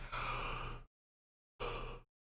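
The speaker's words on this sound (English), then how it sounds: "I'm sorry for the yawn." A person yawns twice at close range, each yawn a drawn-out breathy exhale of under a second, separated by a short silence, with no other sound.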